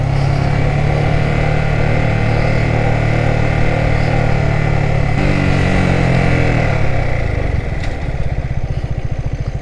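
A motorcycle engine drones loud and close while riding, holding a steady pitch before the revs drop and shift into a slower, lumpier beat near the end; no speech.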